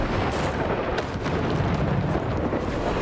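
A Bombarda spell explosion from the Hogwarts Legacy video game: a dense, loud, sustained roar of blast noise with a heavy low rumble, filling the whole moment without pause.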